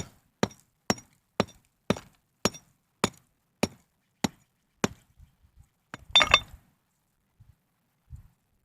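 Sharp metal-on-stone strikes chip at an Oregon puddingstone rock, about ten evenly spaced loud taps, then a pause, a scraping crunch as pieces come loose, and a few faint knocks.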